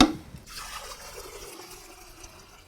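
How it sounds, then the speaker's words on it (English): Water pours out of a Gryphon C40 wet bandsaw through its drain post, a steady splashing trickle after a brief initial gush, close and continuous. "you can lift this thing up and pour it out through this post."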